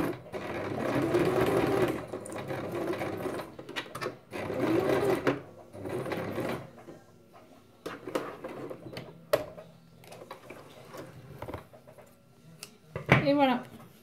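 A sewing machine stitches a scrapbook card in several bursts of whirring, rapid stitching separated by pauses and small handling clicks, with someone speaking softly in between.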